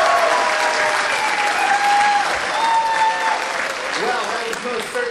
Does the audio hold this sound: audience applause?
yes